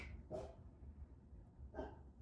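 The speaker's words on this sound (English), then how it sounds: "my dog's barking" Dog barking indoors, two short separate barks about a second and a half apart, faint and somewhat distant against a quiet background.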